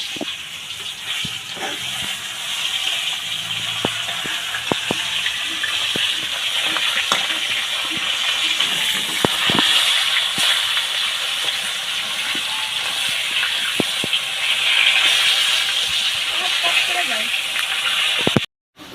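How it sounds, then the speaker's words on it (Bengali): Pieces of rohu fish frying in a pan give off a loud, steady, broad hiss for the whole stretch, dotted with sharp crackles and pops, and it cuts off abruptly at the end. "এখন মাছগুলো ভেজে ডালের মধ্যে দিয়ে ফোড়ন দিয়ে নেব, আর মাছগুলো ভেজে নিচ্ছি।"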